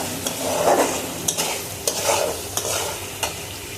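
Ginger, garlic, green chili, two cardamom pods and a cinnamon stick sizzle steadily in hot oil while a spoon stirs and scrapes the pan in several distinct strokes, close and clear, with no talking.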